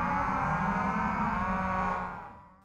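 Angus beef cattle lowing together at feeding time on a central farm, a loud, sustained chorus of moos that holds steady and then fades out near the end, with no talk.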